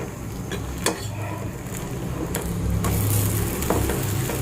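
Wheat flour malpua fries in ghee in a pan on low heat, giving a steady soft sizzle with a few scraping clinks of a spatula as it is turned, close and alone without speech.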